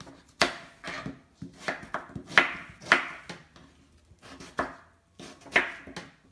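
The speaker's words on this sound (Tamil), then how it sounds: "நம்ம இன்றைக்கி ஒரு 1/4 வாசி பூசணிக்காய் எடுத்து இதை யூஸ் பண்ண போகிறோம். இதை சின்ன பீசஸாக கட் பண்ணி வச்சுக்கோங்க." Knife chopping a quarter of a pumpkin into small pieces on a board, with sharp, uneven strikes about once a second, each followed by a brief slicing rasp, close and clear with no talking.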